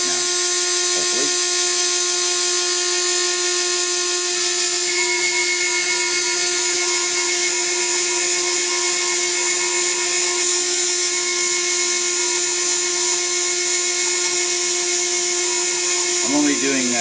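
A milling spindle with an end mill cutting shallow passes in a copper-clad PCB gives a steady, loud, high-pitched whine throughout, with faint clicks near the start and end.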